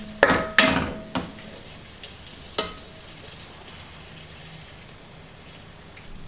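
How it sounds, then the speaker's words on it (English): Stoemp and sausages are plated onto a dish in a home kitchen, with a few sharp clinks and scrapes of utensils against the plate early on, then a lone clatter and a quiet background hiss. "Time to plate things up."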